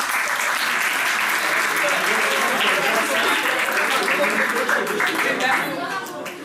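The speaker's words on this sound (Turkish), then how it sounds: "Harbi alkış o zaman." A packed hall of young people at a career event bursts into sustained, dense applause that holds steady and close for several seconds before tapering off slightly at the end.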